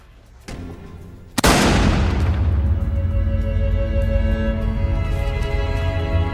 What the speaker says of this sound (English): Carl pulls the trigger.